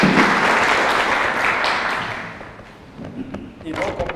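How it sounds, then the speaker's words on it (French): An audience at a machine learning presentation applauds the presenter, a loud, dense burst of clapping that gradually thins out and fades, then swells slightly again near the end. "Donc, on peut l'applaudir, s'il vous plaît."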